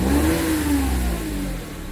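A Daihatsu Ayla 1.0 engine fitted with a throttle controller revs up, its pitch climbing and then easing back down over a couple of seconds, loud and close, with no talking.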